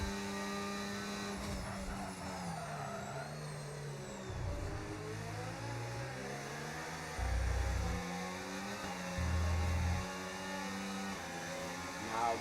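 Race car engines, including a Ferrari, in a sim racing game around the Miami circuit: a steady high-pitched engine whine with shifting revs, under continuous commentary, with brief low thumps along the way.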